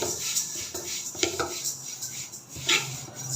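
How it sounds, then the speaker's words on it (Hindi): A spoon scrapes and clinks against a pan while sesame seeds roast over normal heat, with light irregular stirring taps and rustles, close and fairly quiet. "नॉर्मल आंच के ऊपर मुसलसल चम्मच चलाते हुए"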